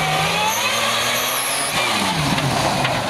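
A supercharged car engine drones steadily and loudly at close range for about three seconds, its pitch rising and falling slightly as it runs, with no voices over it.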